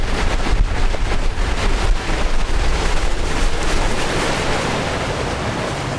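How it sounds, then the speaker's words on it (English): Waves break continuously against the end of a harbor wall in medium conditions, a loud broadband roar of surf and rushing water mixed with wind buffeting, sustained without pause. "you can see the waves breaking on the end of the wall"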